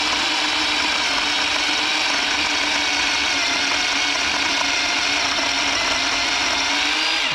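Worx 20 volt cordless chainsaw fitted with a new replacement chain, cutting through a dogwood tree with a continuous buzzing whir under load, loud and close, with no talk.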